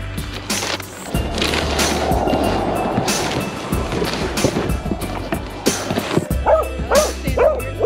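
A dog barks and yips several times amid rumbling background noise, with a few higher whimpering yelps near the end.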